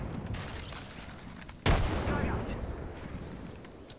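A frag grenade explodes in an Apex Legends match, one sudden sharp blast followed by a decaying rumble, set against quieter gunfire and game ambience.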